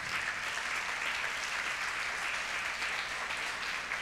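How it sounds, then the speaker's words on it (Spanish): A church congregation at a faith crusade applauds the Lord, a dense, even roar of clapping sustained at moderate level throughout, with no speech on top. "Si vas a aplaudir al Señor,"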